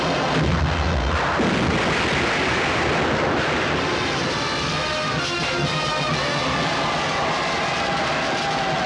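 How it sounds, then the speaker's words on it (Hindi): Cannons roar in a film battle scene, a dense, loud wall of booming blasts and rumbling that carries on without a break and covers everything else. "तोपों की गूंज सुनो"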